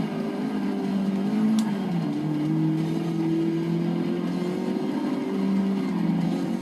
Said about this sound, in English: you have to really brake for this corner here